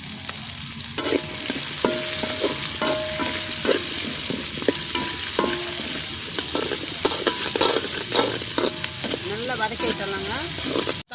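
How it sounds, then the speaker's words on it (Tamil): Dried red chillies and curry leaves sizzle and crackle steadily in hot oil while being stirred for a wedding-style sambar, with repeated scraping strokes of a spoon against the pan, loud and close, and no talking. "நல்லா வதக்கி விட்டுடலாங்க ரெண்டு காஞ்சி மிளகாய் கருவேப்பிலை சேர்த்துக்கலாங்க"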